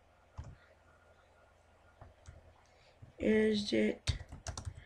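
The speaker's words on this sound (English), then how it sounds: "I'm gonna type some things." Fast clicking from typing on a computer keyboard, sounding close and loud in quick clustered bursts near the end. Before the typing, a short bit of speech can be heard over quiet background noise.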